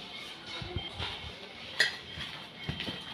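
Brinjal pieces are tossed with salt and turmeric in a dish, giving soft rubbing and stirring noises punctuated by a few light clinks of a utensil against the bowl, fairly close.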